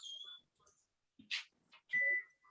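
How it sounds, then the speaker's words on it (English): A kitchen timer set for baking cookies beeps in short bursts, with a steady tone near the end, heard close in a quiet kitchen. "that's my timer, my second timer for the cookies"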